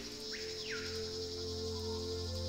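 Steady chirping crickets form a soft, continuous night ambience in the Nancy Drew game Secret of the Scarlet Hand, with a faint rising tone sweeping in briefly near the start.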